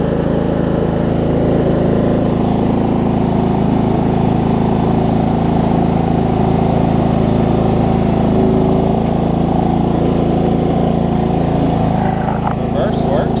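A cheap old Murray riding lawn mower with its engine running steadily as it moves on its own, a loud continuous rumbling drone close by throughout.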